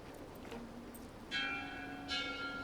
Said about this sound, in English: That bell actually goes in time.